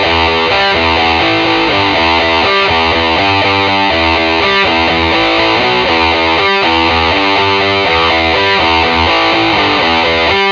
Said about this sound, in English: It's a pretty kind of standard, just overdrive tone.